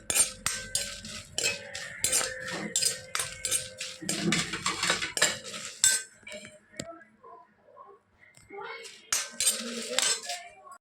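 Chilies frying for a pickle, stirred in a pan with a metal utensil that clinks and scrapes against it in quick repeated strokes, close and clear, pausing briefly before the stirring picks up again.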